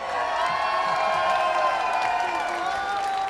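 A crowd applauds and cheers steadily at a gamescom jury award announcement as CD Projekt Red is named winner. The sound is a dense, sustained wash of clapping and whoops at a fairly even level throughout.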